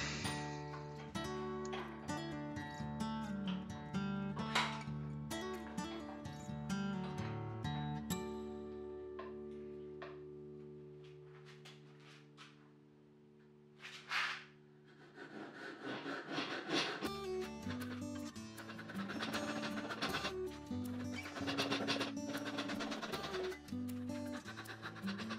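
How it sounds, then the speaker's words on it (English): Scrap wood is rasped and sanded to round it over, a rough scraping in irregular strokes close by, pausing briefly midway before resuming with more rapid rubbing. "going in after with my rasp and sandpaper to round it over and smooth it out"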